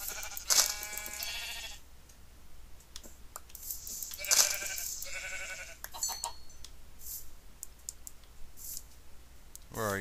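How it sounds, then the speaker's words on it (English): Sheep bleating in Minecraft, a few short game bleats mixed with clicking sounds, under someone talking quietly, all fairly faint. "Come here, sheep."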